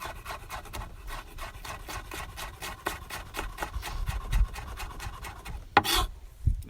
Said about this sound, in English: And we'll just cut these into little strips.